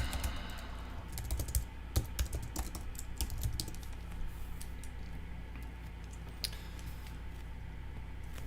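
Left hand typing shortcuts on a computer keyboard while drawing with a stylus on a tablet, a steady run of close, crisp key clicks over faint background hum.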